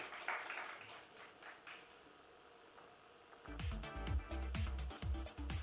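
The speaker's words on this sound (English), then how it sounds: "A big round of applause for Nikhil sir" Applause from a summit awards audience after a keynote, faint scattered clapping that swells into a louder burst over a low thumping music beat in the second half.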